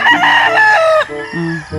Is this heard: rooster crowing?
yes